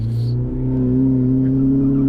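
A hillclimb race car without a differential launches at Shelsley Walsh, its engine holding a loud, steady, close revving drone that swells slightly in pitch and volume over two seconds.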